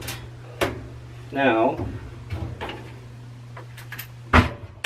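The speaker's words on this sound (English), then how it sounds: "First thing I'm going to do though is remove the door." Door being taken off a clothes dryer that has no heat, giving several short knocks and clunks of metal and plastic against a steady low hum, with a brief spoken word from a person nearby.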